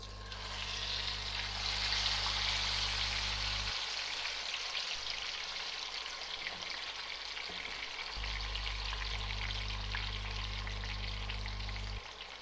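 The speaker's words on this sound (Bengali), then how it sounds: "তেল আমার হিট হয়ে গিয়েছে, এবার আমি চিকেনটি দিয়ে দেব" A whole chicken fries in hot oil, producing a steady crackling sizzle throughout, close and continuous, over a low background hum.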